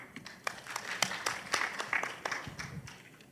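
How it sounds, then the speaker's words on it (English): A round of applause from the audience at a youth TVET competition, faint and scattered, with distinct individual claps over a soft crowd patter that thins out toward the end. "Round of applause for them again"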